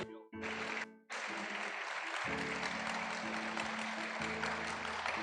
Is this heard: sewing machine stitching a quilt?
no